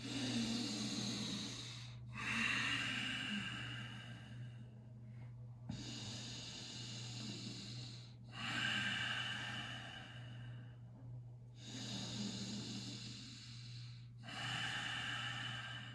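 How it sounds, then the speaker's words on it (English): Slow, deep breathing during a yin yoga class, long audible inhales and exhales alternating in a steady rhythm over a low steady hum, close and unaccompanied by talk. "let's get out of our own way for 10 more deep breaths"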